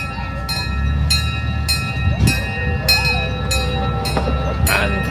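A safari park train in Stirling, Scotland rumbles into the station close by, its wheels clacking at regular intervals, with brief squeals and a short horn-like tone near the end.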